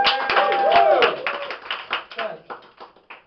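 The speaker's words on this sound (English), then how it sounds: "Let's have a big round of applause for the organisers." A small crowd at an open mic comedy night claps for the organisers, scattered and close, tapering into a few separate claps as the applause dies away, with voices talking over it.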